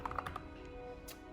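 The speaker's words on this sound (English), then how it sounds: "sorry, I'm thinking while I'm typing." Typing on a computer keyboard at a desk, a quick burst of close key clicks at first, then a pause and one last soft cluster of keystrokes, with no one speaking.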